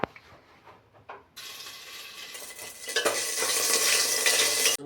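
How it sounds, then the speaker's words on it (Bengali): Ginger-garlic paste hits hot oil in a pot: quiet handling noises first, then a sudden sharp sizzle that swells into a loud, continuous frying hiss through the rest of the clip. "তেল গরম হয়ে গেছে, এবার এতে আদা রসুনের পেস্টটা দিয়ে দেবো।"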